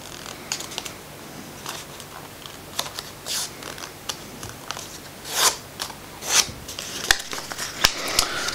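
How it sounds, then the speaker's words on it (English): Paper being folded and creased by hand for a printable tabletop dice craft, with soft scattered rustles, light crinkles and brisk sliding rubs, a few sharper crease sounds near the end, close and fairly quiet. "Fold and crease, and then unfold these for now."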